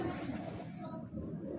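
Teddy breeder pigeons coo softly in a loft, a low murmuring call nearly buried under dense, noisy background rumble.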